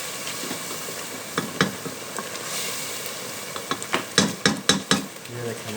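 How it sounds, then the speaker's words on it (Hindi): A spoon clatters and scrapes against a pan while spices with white cumin and white pepper are stirred for a dal, with sporadic knocks that quicken into a rhythmic run near the end over a faint sizzle. "इसको अच्छे तरीके से मसाले को मिक्स कर लेंगे"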